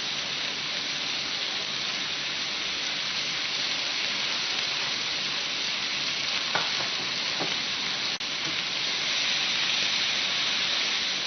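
Steak meat for a New York-style cheesesteak frying in a pan, with a steady, even sizzle and hiss throughout and a few brief scraping clicks from stirring.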